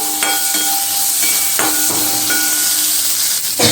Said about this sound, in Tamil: சேர்த்து மிக்ஸ் பண்ணி விட்டுக்கோங்க தக்காளி பழம் கொஞ்சம் வதங்கட்டும்